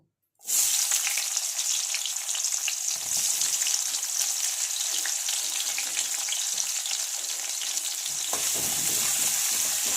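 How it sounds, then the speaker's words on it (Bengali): Chopped onion hits hot oil and fries with a loud, dense, continuous sizzle that bursts in abruptly and holds steady, with faint stirring scrapes underneath, close up. "এবার আমি এই তেলের মধ্যে কেটে রাখা পেঁয়াজটা"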